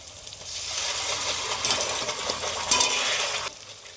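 Tomato and onion paste frying and being stirred in a pan for Bengali meat kosha, a steady close sizzle with scraping and clinking of a spoon against the pot.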